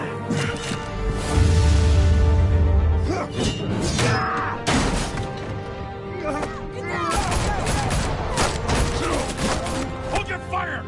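Gunfire bursts in a Batman video game, sharp cracks and clattering shots among a busy mix of game effects and voices, loud and close.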